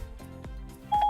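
Telephone dialing tones from an outgoing call placed through Siri in a Lexus, a short run of electronic keypad beeps ending in a steady tone, clear and alone.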